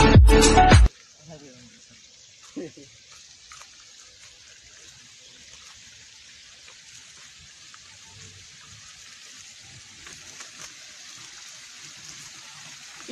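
A waterfall stream at an eco camp in Goalpara, set between the Brahmaputra river and hills, gives a steady, soft, distant hiss of flowing water, opening with a brief loud burst and carrying faint sounds of activity throughout.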